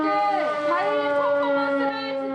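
A siren wailing with rising and falling pitch at a climate march on Sejong-ro in Seoul, steady and fairly loud, with crowd noise and voices underneath.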